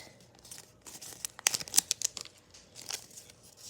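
Origami paper being folded and creased by hand while making a paper butterfly, a run of close crinkling and sharp crackling rustles that peaks in a brief burst of crisp snaps midway before easing off.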